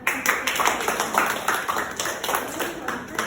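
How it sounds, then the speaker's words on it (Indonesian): An audience applauding at a classroom presentation on anemia, with a steady patter of hand clapping from a small group and some talk mixed in. "kita kasih aplaus buat"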